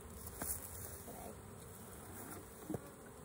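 Honeybees buzzing around an open hive during an inspection, a steady faint hum of many bees with a few brief closer passes, continuous and soft with no talk.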